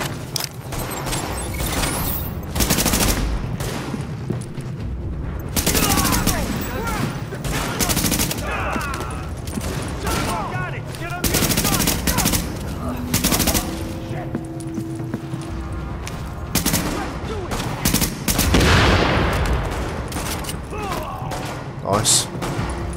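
Heavy gunfire and repeated explosive bursts from The Division, a shooter game, set during an escort mission under fire from a rooftop. The shots come dense and loud throughout, with voices heard over the battle.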